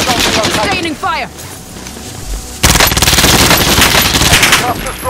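Sustained machine gun fire from a video game battle, a dense rapid rattle that swells loud in the second half after quieter bursts and scattered chatter of gunfire early on.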